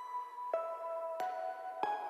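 Quiet lo-fi hip hop synth lead line on its own, three soft plucked notes with sustained tones between them, faint and mellow.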